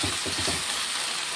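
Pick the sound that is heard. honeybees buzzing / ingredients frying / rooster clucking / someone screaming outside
ingredients frying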